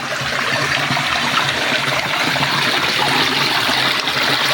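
Running water pours from a water source on rural land with coconut trees, a constant close trickling rush with no break and no speech.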